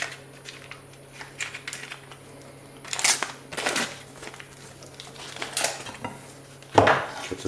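Regular butter being cut on a board with a knife, a few soft close taps and thuds spread over quiet background, no talk.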